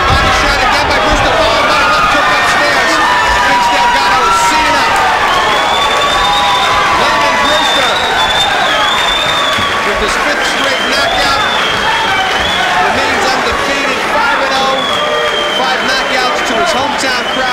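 A hometown crowd at a Beverly Hills boxing match cheers and shouts loudly and continuously, a dense roar of voices with whistles rising above it while a commentator talks over the noise.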